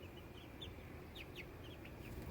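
Chickens in a small backyard coop cluck faintly and sporadically in the distance over a steady low background hum, with no voices.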